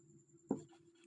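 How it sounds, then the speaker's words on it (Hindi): A pen scratches briefly on paper in a quiet room, one soft stroke near the middle against a low steady hum. "तो यहाँ पे लिखेंगे"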